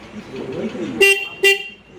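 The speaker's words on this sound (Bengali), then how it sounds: "আমাদের হর্নটা বাজছে" An electric rickshaw horn, being tested while a faulty wire is fixed, gives two short loud beeps about half a second apart after a stretch of low background noise.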